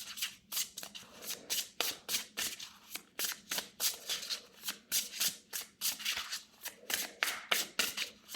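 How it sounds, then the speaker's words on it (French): Tarot cards are shuffled by hand close up, a rapid run of crisp riffling bursts one after another with brief pauses between, quiet and alone without talk. "je prends la première et une dernière carte"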